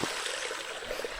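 Running water of a mountain stream in the woods, a steady broadband rush and trickle close by, continuous and unbroken without talk.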